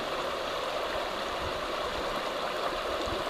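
River water rushes and flows steadily with a dense, continuous broadband wash, close and even throughout, with no voices.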